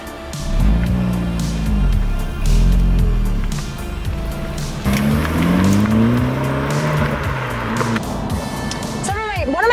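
A Honda Civic Type R, the 2024/2023 model with a manual transmission, drives on the road with a loud engine rising and falling through several revving pulls, and rushing road noise under it.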